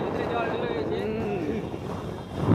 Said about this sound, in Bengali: পুরো বাতাস উঠে দিয়েছে, বাতাস আর ধুলা